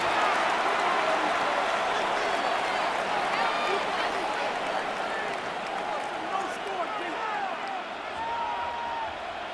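Stadium crowd roars steadily in Madden NFL 26 during a simulated Jaguars vs. Patriots AFC Championship game at third down, a dense, continuous wash of cheering that stays loud throughout with an announcer talking over it.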